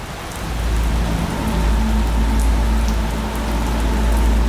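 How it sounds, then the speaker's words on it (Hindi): Steady rain falls in a Siachen region camp where an Indian Air Force MI-17 helicopter stands by, a continuous dense patter with a low rumble, loud and close, no voices. "यहां कई दिनों से बारिश हो रही है"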